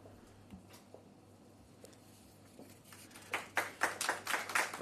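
Applause at a Jamaican health ministry launch of an asthma clinical management guideline: a quiet room with a few stray taps, then a short run of distinct, fairly sparse claps building near the end.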